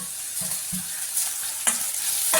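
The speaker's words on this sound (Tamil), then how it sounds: "சேர்த்திட்டு வதக்கலாம்" Onions, tomatoes and curry leaves sizzle softly in a pan while a spoon scrapes and stirs in a few quick strokes, close up and without speech.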